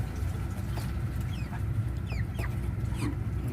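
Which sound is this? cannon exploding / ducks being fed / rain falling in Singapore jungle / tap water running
ducks being fed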